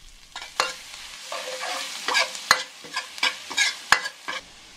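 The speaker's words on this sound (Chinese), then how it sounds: "豆豉炒香呢，我们再下入蒜末炒香" Minced garlic and fermented black beans stir-fry in lard, a spatula scraping the wok in quick repeated strokes over a soft, steady sizzle, close and fairly loud.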